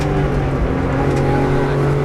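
A car engine droning steadily on a race track, loud and close, holding a fairly even tone across the short span without a clear rise in revs.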